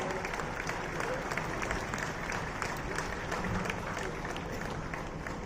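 Steady, dense applause from a large crowd, sustained at an even level throughout, with no pauses or talking over it.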